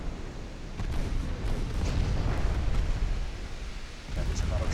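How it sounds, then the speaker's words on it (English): Torpedo hits explode against warships in Ultimate Admiral Dreadnoughts, a rumbling wall of deep, booming blasts rolling continuously and loud, like distant heavy detonations. "7 torpedo hits."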